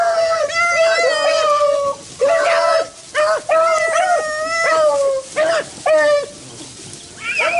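Beagles bay while trailing a rabbit on a hunt, loud close howling calls in repeated drawn-out bursts with short gaps between them.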